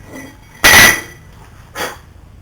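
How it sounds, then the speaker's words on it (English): An old brake rotor is pulled off a car hub with a sharp metallic clank, followed about a second later by a second, softer metal knock; close and isolated in a quiet garage. "Remove the old rotor."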